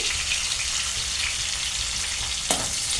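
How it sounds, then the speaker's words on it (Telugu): Onion and green chillies fry in oil in a pan for a gaarala pulusu, a loud, even sizzle that holds steady throughout with a brief stirring rustle near the end and no voices. "ఆనియన్ కొంచెం ఫ్రై అవ్వాలి"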